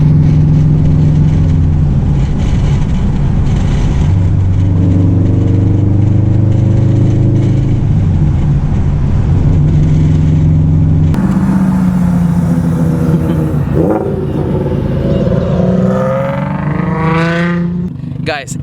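A turbocharged 2018 Subaru STI engine idles with a deep, steady rumble, then revs repeatedly with rising and falling pitch, loud and close, while people talk nearby.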